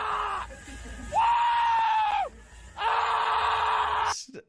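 A goat lets out loud, drawn-out human-like screams, three bleating cries separated by brief pauses, each held for about a second, close and harsh.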